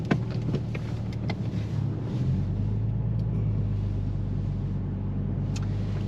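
A Porsche 911 996 Turbo engine fires up with a short burst of cranking and sharp clatter, then settles into a steady, deep, loud idle rumble that holds close and constant.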